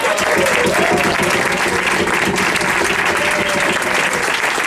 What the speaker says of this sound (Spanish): no saxo alto está Pablo Castaño, un aplauso.